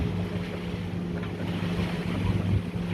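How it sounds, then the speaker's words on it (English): A sailboat motors out from Wrightsville Beach under engine, with a constant low engine drone mixed with wind buffeting and water wash, close and steady throughout. "So we're motoring out."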